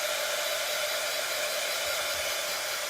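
A heat tool blows a constant, even hiss of hot air while drying paint on a Dollar Tree Easter bunny sign, close and loud with no voices.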